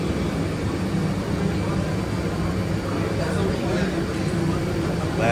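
Steady engine and air-system rumble fills the space while passengers board an American Airlines plane in Las Vegas. It runs as a continuous close drone with a constant ambient hum.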